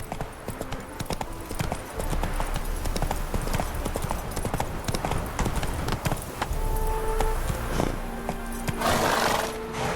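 In The Witcher 3: Wild Hunt, a horse gallops with a fast, steady run of close, loud hoofbeats, and a voice briefly urges it on.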